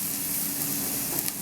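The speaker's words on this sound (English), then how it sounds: "You can hear the onions are starting to come to a sizzle." Onions starting to sizzle in a pan, a soft steady frying hiss close by with a couple of faint clicks and no talking over it.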